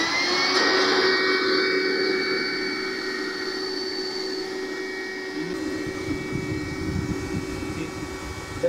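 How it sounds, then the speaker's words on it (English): A vacuum pump used to suck pests off a plant's leaves and stem runs with a steady, loud whining hum that holds from start to finish and shifts slightly in pitch partway through, with no talking over it. "So I am switching on the vacuum pump."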